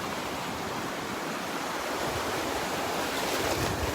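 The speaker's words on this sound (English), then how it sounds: "These waves are soaking my shorts." Ocean surf washing around someone wading knee-deep near a sandbar at Delnor-Wiggins beach, a steady, loud, close wash of breaking waves with some wind rumble on the microphone, no voices.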